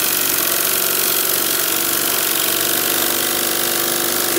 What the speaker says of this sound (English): It's a really fast engine.